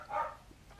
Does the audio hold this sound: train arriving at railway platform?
no